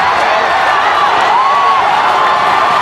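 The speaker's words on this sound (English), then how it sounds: "The crowd is in rapture here at the RFUEA ground." Rugby crowd at the RFUEA ground in Nairobi roaring and cheering during a Safari Sevens 2023 final, a dense, loud, continuous wash of voices with shouts and whoops rising through it.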